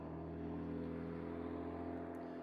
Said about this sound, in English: Oh shit, car's coming.